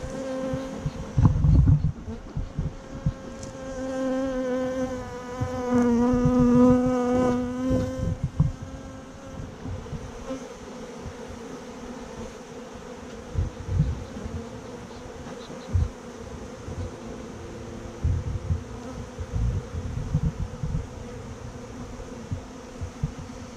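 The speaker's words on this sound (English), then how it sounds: "Now we just want to flush these bees out" Steady insect buzzing from a crowd of bees being flushed out during a honeybee removal, louder and denser in the first seconds, then a lower, thinner hum with occasional thumps and rustles.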